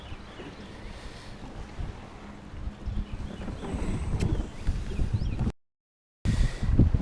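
Wind gusts across Lake Norman during a kayak fishing tournament, a steady broadband rush and buffeting on the microphone that swells louder toward the end, with a brief total dropout near the close.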